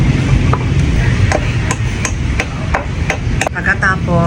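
A hammer taps steadily on a wooden board while a vanda orchid is mounted on it, about a dozen sharp close knocks in an even rhythm over a low background hum.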